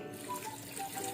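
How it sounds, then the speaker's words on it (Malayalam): Water is poured into a cooking pot of mutton kurma, a soft, quiet trickle and splash lasting only a moment. "വെള്ളം ചേർത്ത്"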